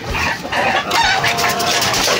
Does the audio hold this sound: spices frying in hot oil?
no